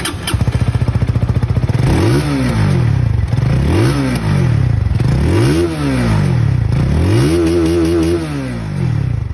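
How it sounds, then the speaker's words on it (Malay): An SYM supermoped motorcycle engine with a six-speed transmission revs loudly and close up, rising and falling in four or five repeated throttle blips with no talking. "Jom kita belanja sikit bunyi motor ni."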